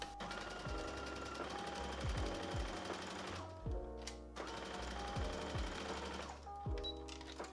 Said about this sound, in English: I just want to add another 2 basting stitches along the bottom